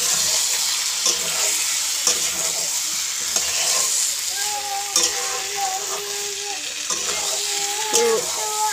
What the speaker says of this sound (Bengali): মাংসটা এখন কষে নেব